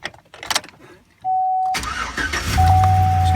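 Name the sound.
2003 GMC Sierra engine starting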